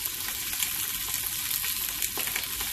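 Pork fat frying down into cracklings and lard gives a steady, close, dense sizzle with no pauses throughout.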